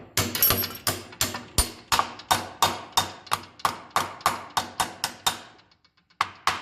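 Hammer or socket tapping a part into place on a 1954 Ferguson TE20 diesel tractor: about twenty sharp metallic taps in a steady, fairly quick rhythm, close and loud, with a short pause before one final tap.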